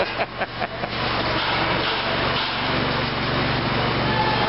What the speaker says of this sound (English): This is where we start using these real specialized drill rigs that can get into these tight spaces.